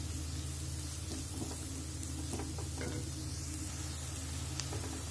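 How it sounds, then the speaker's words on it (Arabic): Onions, carrots and other vegetables sauté in butter, a dense, steady sizzle with occasional stirring scrapes close up, with no voices over it. "الله على الالوان والزبده دي مع الخضار، بصراحه البصل والحاجات دي بتبقى جميله. ونشوح كده"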